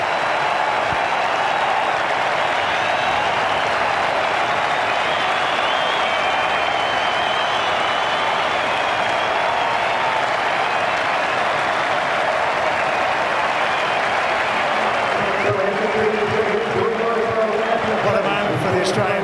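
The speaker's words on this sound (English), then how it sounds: "Listen to the crowd." At Adelaide Oval, a cricket crowd roars and applauds Australia's Ashes Test victory, a broad, continuous wash of cheering that fills the ground, with a commentator speaking as the noise begins to thin near the end.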